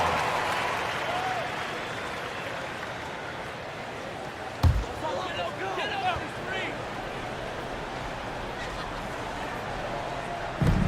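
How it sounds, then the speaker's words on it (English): Crowd applause and cheering fill a basketball arena during a Warriors timeout, steady and moderately distant with a sharp bang midway and crowd babble underneath. "Give yourself a round of applause."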